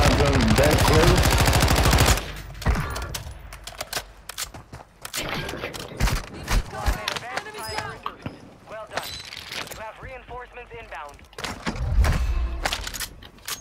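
Gunfire in a shooter video game: a dense, loud burst of rapid shots at the start, then scattered single shots and pops, with people talking over the action.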